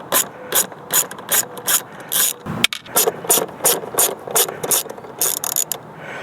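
A hand ratchet loosens the mirror mounting nuts on a Ford F-150 during a towing mirror install, producing close, crisp bursts of rapid clicking in short repeated strokes with brief pauses between them.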